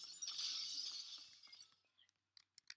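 In the shooter game Phantom Forces, a pane of glass shatters with a bright crash, followed by scattered tinkling shards that fall quiet over about two seconds.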